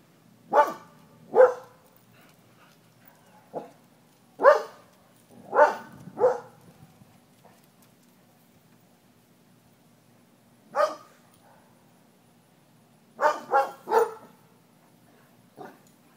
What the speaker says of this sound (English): They're barking because you're barking.